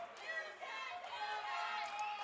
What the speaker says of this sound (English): As the crowd's giving a "you can't do that" chant right now